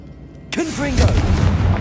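A Confringo explosive spell in Hogwarts Legacy bursts suddenly from quiet, a loud sharp blast with sweeping whooshes and a sustained rumbling roar afterward.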